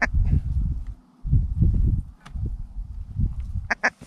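Ducks quack several times in short bursts during a duck and goose hunt, fairly close, with noisy rustling and low thumps around them.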